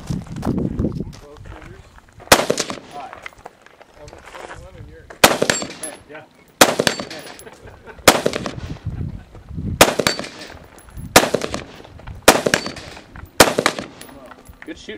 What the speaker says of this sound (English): Good shooting on your pistol, by the way.